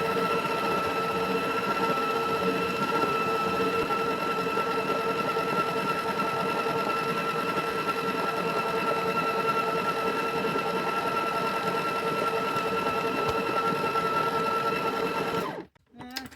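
An electric mixer whirs steadily as it beats buttercream icing made with powdered sugar and milk, a loud, even motor drone close by that cuts off abruptly at the end.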